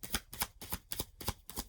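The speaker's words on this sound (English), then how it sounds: "I don't know why I'm about to shuffle." Tarot cards are shuffled in quick riffling bursts, about seven crisp papery flutters in an even rhythm, close and fairly quiet, with no talking.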